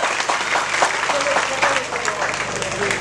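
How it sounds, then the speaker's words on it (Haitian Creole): A crowd of children at a gift-distribution festival in a town hall district claps loudly and continuously, the dense patter of small hands sustained throughout with voices mixed in. "Un plus gros applaudissement."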